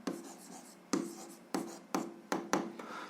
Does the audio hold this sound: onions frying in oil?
no